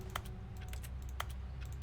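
Keyboard button-press clicks triggered by mouse clicks in The Stanley Parable: Ultra Deluxe, a few sharp separate taps over a steady low background hum with no talking.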